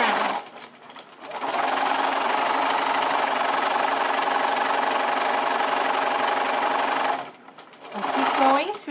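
A sewing machine runs steadily for several seconds while stitching a mitten seam, starting and stopping with brief pauses at each end, close and loud, with a voice speaking before and after.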